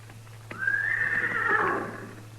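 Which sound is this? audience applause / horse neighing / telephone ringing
horse neighing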